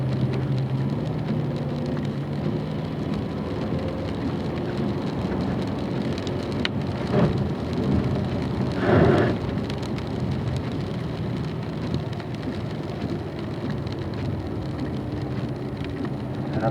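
Rain falling steadily around a Corvette during a performance driving school session on wet asphalt, a dense continuous hiss with a few brief louder bursts, engine and road noise blended in.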